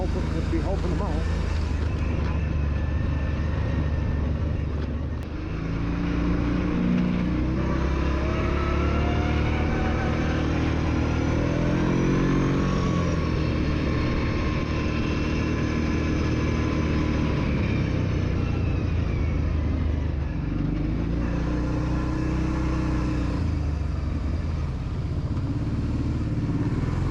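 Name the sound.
ATV engine running during an outdoor ride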